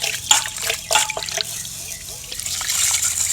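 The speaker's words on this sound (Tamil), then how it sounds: "1 கப்பு உளுந்து அதை நல்லா கழுவிக்கிறோம்." Black urad dal being rinsed by hand in a bowl of water, with close splashes, drips and sloshing that come in bursts and then settle into a softer trickle.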